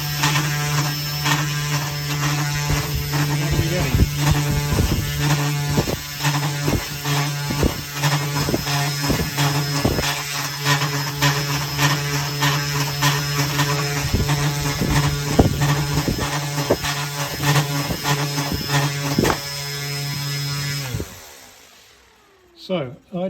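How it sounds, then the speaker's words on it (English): Small VTOL tilt servo and its electric motor driven at full power on a bench, giving a steady close whine with a mains-like hum and rapid clicky mechanical ticks as the servo tilts, stopping abruptly near the end. "So there we go, full power. And I will give it some tilting."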